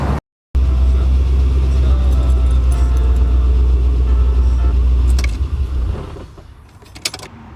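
A Mercedes R107 with a swapped LS V8 idles with a deep, loud, steady rumble up close, then cuts off, leaving a few faint clicks and rustles.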